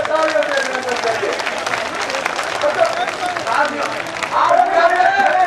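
Crowd at a protest sit-in on Delhi's Sansad Marg claps in lively, sustained applause, with voices and shouts mixed in and the clapping swelling louder toward the end.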